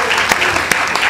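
A brief burst of audience applause at a Hindi comedy poetry gathering (hasya kavi sammelan), dense clapping with a few sharper individual claps standing out.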